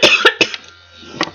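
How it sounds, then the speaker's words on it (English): Three sharp, close coughs in quick succession, followed by a pause and one more softer cough near the end. "Haven't even started the recording yet, and I'm already coughing."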